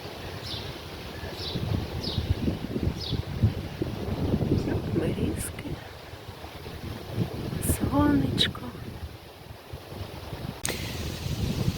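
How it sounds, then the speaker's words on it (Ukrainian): Strong, cold gusty wind buffets the microphone in low rumbling bursts, with faint voices and a few distant bird-like chirps in the background. "У нас іде такий сильний вітер, що мені треба якось ховати мікрофон, щоб воно не задувало."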